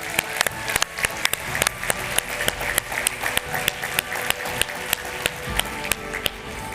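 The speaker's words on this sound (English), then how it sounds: "please recognize her for her leadership with a round of applause" Hall of fame awards audience applause: a moderate crowd clapping steadily, with individual hand claps popping out crisply at irregular intervals over a soft background wash.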